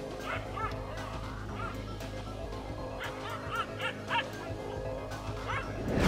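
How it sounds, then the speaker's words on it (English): A small dog barks and yips in an outdoor confrontation with two wild African lions, the repeated sharp barks mid-distance over a steady low rumble and background noise. "This brave little dog barks his disagreements to not one, but two wild African lions"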